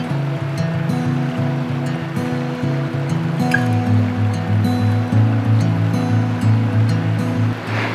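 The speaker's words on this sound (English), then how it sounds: "the river is just so wild in how it flows" A wild river rushes through forest in a steady, loud roar of flowing water, constant and close with no voices.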